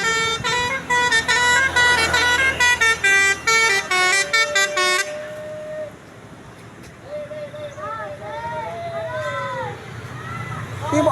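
Melodic telolet horn of a Basuri tour bus, rapid stepped musical honks blaring loudly, then bus engine idling with people talking and calling out over it.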